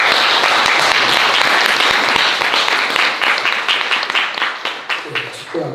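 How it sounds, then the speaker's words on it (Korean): Sustained applause from a church congregation at a Sunday service after a funeral, dense clapping at full strength that thins and fades toward the end, with some voices mixed in. "우리 박수로 위로해 주시기 바랍니다"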